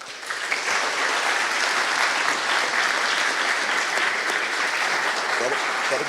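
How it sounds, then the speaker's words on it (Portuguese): A city council chamber fills with steady, energetic applause from many people, a dense uninterrupted clapping that swells in the first half-second and holds at full strength. "Todos aqui vão aplaudir muito pelo que o senhor também trouxe para a cidade"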